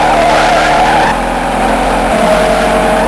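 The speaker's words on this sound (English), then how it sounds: "Watch me do a burnout." A car in a stop-motion chase movie does a burnout, a loud, continuous tire squeal layered over engine roar, sustained close and alone for a few seconds.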